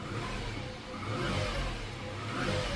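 A car engine idles in winter, a steady close mid-pitched hum with slight rises and dips over a few seconds, heard alone.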